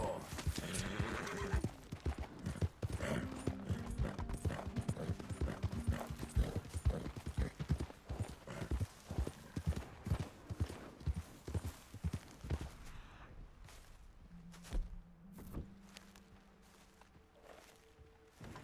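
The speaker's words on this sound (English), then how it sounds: "What a horse you are." Horse hooves clip-clop in a steady walking rhythm, close by, with a horse snorting and whinnying; a brief low tone sounds near the end.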